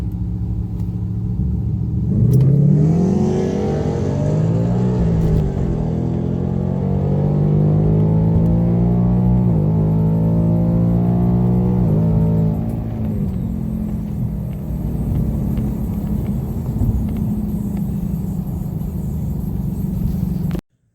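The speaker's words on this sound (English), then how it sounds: "Jeremy Pater out of Champlin in the Chevy Monza on your pit side, the O'Reilly Auto Parts lane." Race cars, a Mustang and a Chevy Monza, rev their engines at Grove Creek Raceway, a loud sustained drone with rising and falling revs lasting the whole stretch.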